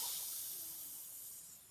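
A child imitates a snake with a single breathy hiss, a soft, steady sibilant sound lasting under two seconds and fading slightly at the end.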